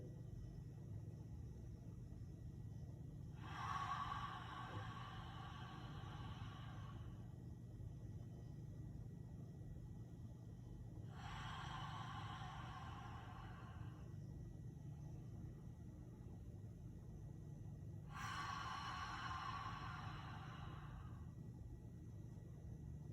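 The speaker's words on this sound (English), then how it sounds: "With 3 long breaths, inhaling through the nose and exhaling through the mouth." Three long, slow breaths during a beginner morning yoga session, each drawn in through the nose and released through the mouth, soft airy swells spaced evenly over a low steady background hum.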